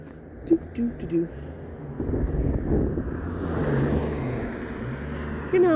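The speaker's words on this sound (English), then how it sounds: "I think there's a car coming." A car approaches and drives past on an open road, a rising then fading broadband rush of engine and tyre noise, mixed with gusty wind on the microphone and a voice speaking over the start.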